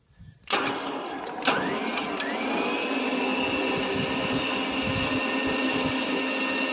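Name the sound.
electric winch pulling cable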